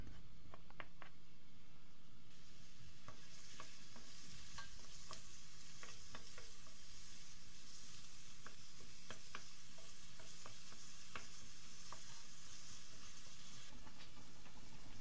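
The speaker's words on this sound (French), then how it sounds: "On verse nos oignons et notre ail. Et on laisse mijoter quelques minutes." Onions and garlic sizzling in a pan for a Montecarlo pasta sauce, a steady close hiss with scattered pops and crackles and occasional stirring scrapes, no talking.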